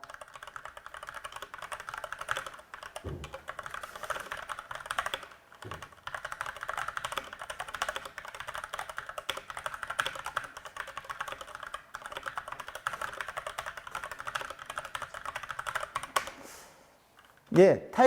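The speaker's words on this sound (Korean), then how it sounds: "위에 글자와 똑같이 다시 한번 타이핑을 해주시기 바라겠습니다" Steady, rapid keyboard typing runs throughout, a continuous patter of key clicks that stops briefly near the end.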